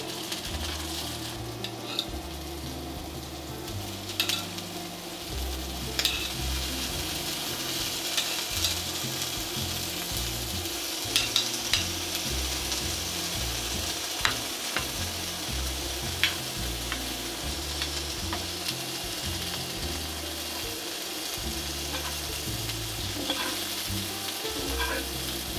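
Heart of palm "lobster" searing in a hot pan, a steady close sizzle and crackle running unbroken for nearly half a minute, with occasional faint clicks and no talking.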